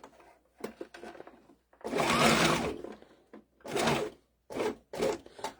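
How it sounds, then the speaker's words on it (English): A sewing machine stitching through folded layers of rifle bag material in a sewing shop runs in uneven bursts, one longer whirring run then several short ones, close and moderately loud, with quiet gaps between. "typically I reduce my number of stitches. That way the presser foot moves faster."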